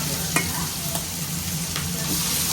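Pieces of hilsa fish fry in hot oil one by one with a steady, continuous sizzle, close and moderately loud, with a few brief crackles and spatters breaking through.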